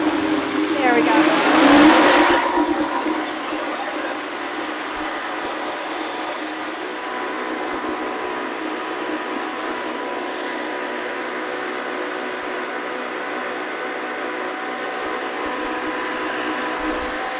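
A blender whirs through cashews for vegan cheese, a loud motor surge at first that settles into a steady high-pitched whine, with a voice talking over it.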